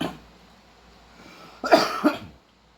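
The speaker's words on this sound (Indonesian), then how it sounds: "Maaf guys, batuk." A person coughs twice in quick succession, close and fairly loud, following a faint breathy throat sound in a quiet kitchen setting with an electric cooking pot.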